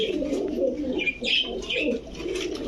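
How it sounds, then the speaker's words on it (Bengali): Domestic pigeons, a male and female pair of fancy breeds in a loft, give low, rolling coos that repeat steadily and close by, with faint higher chirps between them and no talking. "দর্শক দেখেন কবুতরগুলা"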